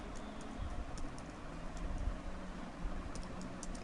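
Fast typing on a computer keyboard while designing a website banner in CorelDraw: quiet, light key clicks tapping in irregular runs over a steady low hum of room noise.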